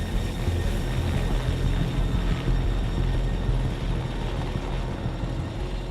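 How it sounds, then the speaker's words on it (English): A helicopter climbs steadily toward a wingsuit BASE jump altitude, its rotor and turbine roar loud, close and continuous throughout, with no breaks or voices. "the helicopter sets off on the 20-minute climb to the jump"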